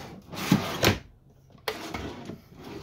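Drawers in the kitchen of a 2011 Tiffin Allegro Bus 43QGP diesel pusher RV sliding and closing, two quick wooden thuds near the start, then another louder slide-and-bump a second later, close and clear with no talk.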